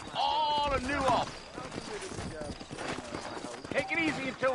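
Horse hooves clip-clop in a Red Dead Redemption western town scene, a soft rhythmic patter running beneath a man's drawling speech that dominates the foreground.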